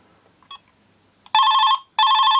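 A 1993 Philips PR 800 GSM brick phone rings at maximum volume, giving two loud, piercing electronic tone bursts of about half a second each after a few faint clicks.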